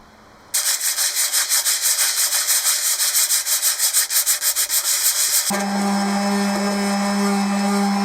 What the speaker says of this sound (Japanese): 残ったところは紙やすりやサンダーで剥がします。